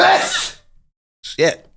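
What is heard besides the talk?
sneeze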